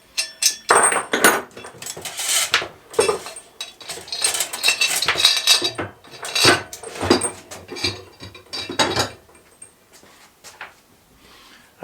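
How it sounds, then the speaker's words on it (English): A metal bar slides through a pipe while a homemade anchor is assembled, producing a run of sharp metallic clanks, scrapes and rattles in uneven bursts, close by, fading to quieter taps toward the end. "we're now going to put the second bar through"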